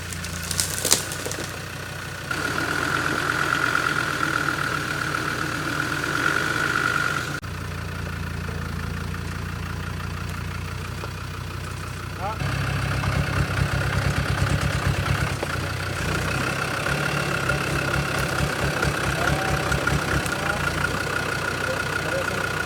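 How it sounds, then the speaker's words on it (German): Land Rover Defender engines idle and rumble close by as the vehicles creep down a step off-road, a steady low engine drone that shifts in pitch and load, with people talking over it. "Der erste Defender hat es geschafft und jetzt fahren wir auch noch runter."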